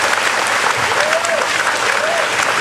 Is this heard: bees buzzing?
no